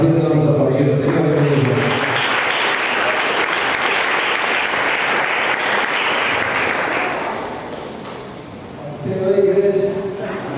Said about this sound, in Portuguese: Mais uma vez vamos aplaudir o Senhor.